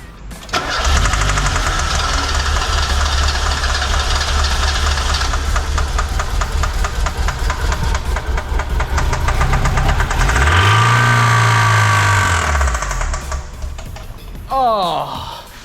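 Mazda Miata engine cranking and starting, then running rough with a loud, uneven knocking idle and a revving swell near the end, with people talking over it.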